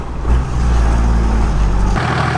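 A 1HDT Land Cruiser 4WD diesel engine with a 3-inch straight-pipe exhaust runs close by, a loud, deep, continuous rumble that steps up slightly near the end.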